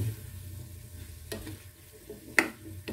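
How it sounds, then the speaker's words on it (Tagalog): Food being stirred with seasoning in a frying pan, heard as a quiet, low sizzle with two soft scraping strokes about a second apart. "At pampalasa. At saka halu-haluin."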